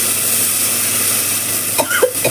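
Tamarind pulp is poured into fried onions, and the pan gives a loud, steady hiss that ends in a few short splashing bursts as the liquid hits.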